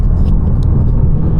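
Engine of a tuned BMW G80 M3 rumbling steadily under driving load, a loud continuous low drone from inside the car with a few faint higher clicks and no talk.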